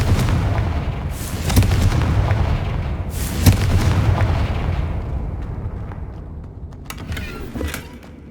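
Fiery spell explosions from the Confringo spell in the Hogwarts Legacy video game, with two loud booming blasts about two seconds apart and a rumbling background, followed by quieter crackles and pops toward the end.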